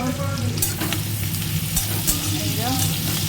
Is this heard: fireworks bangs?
no